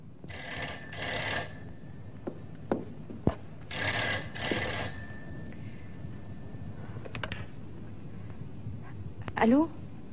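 An old telephone bell rings in two bursts of rapid trilling, near and fairly loud, in an Egyptian film scene with quiet background sound and a few small knocks.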